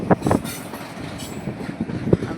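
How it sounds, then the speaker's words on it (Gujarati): A train passes close by, a brief loud rumble with rhythmic clattering wheel knocks on the rails. "આમ ટ્રેન જાય છે"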